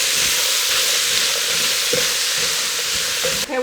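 Sausage, bell peppers, onion and celery sizzle loudly and steadily in a pan while being stirred, with a few soft scraping knocks and a clatter near the end.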